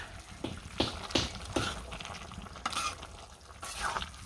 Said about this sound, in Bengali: মাছটা দিয়ে দিই মাছটা একটু জাল হবে জাল হলে বেশি ভালো লাগবে